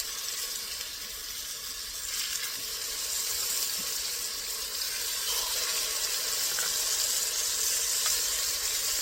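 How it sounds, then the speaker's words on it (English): Steak sears in a very hot cast iron pan, giving a steady, fairly loud broadband sizzle that holds throughout with no talking. "My cast iron is hot, so now I'm going to sear"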